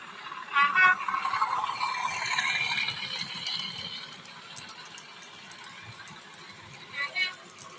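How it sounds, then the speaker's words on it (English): A model railway Class 31 diesel locomotive gives a faint, noisy mechanical hum and rattle with a few brief louder clicks, heard at low volume in an indoor layout. "And the Class 31, which sounds like this."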